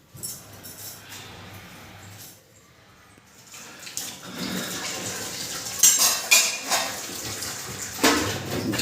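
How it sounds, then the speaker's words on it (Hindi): Dishes and cutlery washed in a sink under a running tap in a home kitchen: clinking metal and rushing water, quiet at first, then louder splashing and scattered clanks, nearby, with no talking. "झाड़ू के बाद बर्तन साफ किया जा रहा है।"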